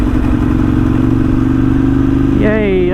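Ducati superbike engine droning steadily and loud while being ridden on country roads, a constant mechanical roar that holds through the whole stretch, with a brief rise in pitch near the end.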